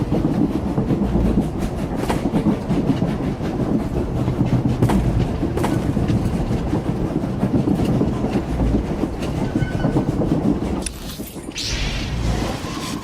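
A moving train in the video game Star Wars: The Old Republic makes a loud, continuous rumble with rhythmic rail clacks and sharp mechanical knocks. It carries on steadily, with a short dip near the end.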